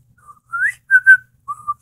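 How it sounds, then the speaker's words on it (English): A person whistles a short tune of a few clear, sliding notes against near silence, with small pauses between phrases. "No whistling!"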